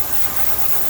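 A heat gun blows hot air to heat-set paint on a vintage Storm Wiggle Wart fishing lure, a steady close hiss of rushing air filling the whole second without voices.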